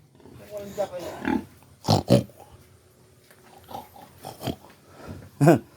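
Pigs grunt and snort in several short bursts, close by, with people talking intermittently between them.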